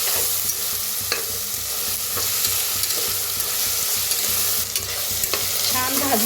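Jackfruit curry masala is stirred and roasted in a pan, giving a steady sizzle with repeated scraping and clinking of the spoon throughout, close and fairly loud.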